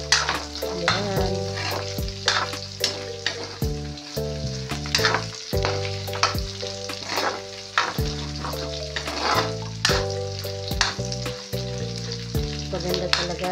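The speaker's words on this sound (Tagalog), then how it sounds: "Para malinamnam guys ang ating ginisang gulay." Vegetables for a Filipino ginisang gulay, pakbet-style, sizzling and being stirred in a hot pan, with a steady fry hiss broken by frequent spatula scrapes and clinks, loud and close, with music playing underneath.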